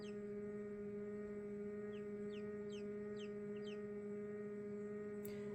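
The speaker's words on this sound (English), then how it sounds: "So the more they chirp, the more it excites the other peeps." Newly hatched chicks in an incubator give a series of quick, high peeping chirps over a steady loud electrical hum, with no talk.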